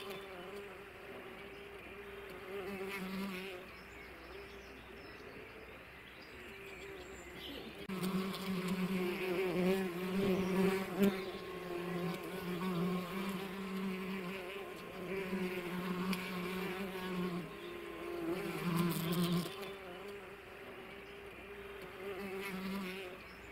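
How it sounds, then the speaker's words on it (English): A bumblebee queen buzzing around her tree bee nest, a steady close droning hum that swells louder partway through and wavers as she moves about. "Here's the queen bee going around and about doing her duties in her nest."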